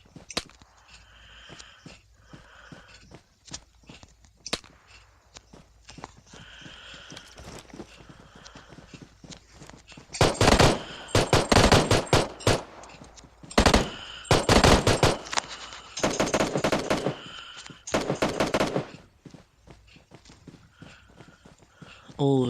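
Gunfire in the battle royale game PUBG, heard as loud, rapid bursts of shots in several clusters during the second half, after quieter footsteps and movement sounds, with a player talking over parts of it.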